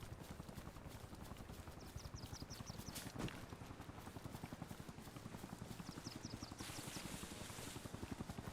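Video game helicopters drone steadily and close throughout, their rotor chop a rapid even pulse set against a busy battlefield wash, with a sharp burst near the middle.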